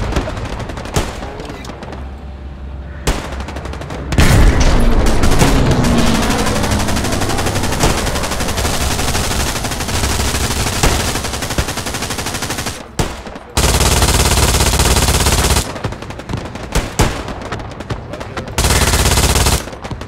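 MG42 machine gun firing in the Hell Let Loose war game, long loud rattling bursts separated by short pauses, with other gunfire and battle noise around it.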